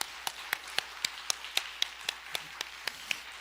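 During a Korean church devotional worship service, the congregation claps in unison, a quiet, evenly spaced beat of about four sharp claps per second over a soft room hum.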